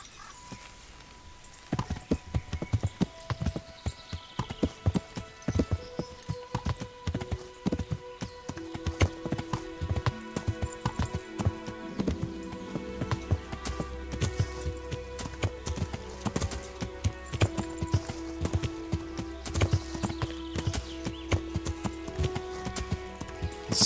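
Horse hooves clop in a steady walking rhythm while riding on horseback in the video game Kingdom Come Deliverance, clear and close, with a low tonal game soundtrack swelling beneath.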